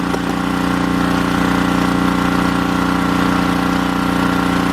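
A 2001 Dodge Grand Caravan's 3.3-litre engine, which has head gasket trouble, idles steadily and loudly up close, holding a constant mechanical hum with a rapid regular pulse and no talking over it.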